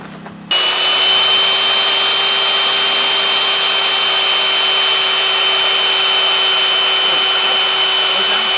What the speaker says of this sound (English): Now you come over this side and drill through, okay?